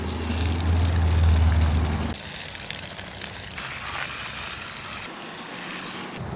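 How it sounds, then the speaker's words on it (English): Continuous hissing spray washing down a lawn mower engine to clean it, loud and close, shifting in tone as the spray moves across the engine, with no talking. "Let's spray this whole thing down and see if we can't get it a little bit cleaner than this."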